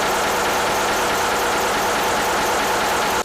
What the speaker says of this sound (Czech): kde spolehlivě tepe jeho motor Škoda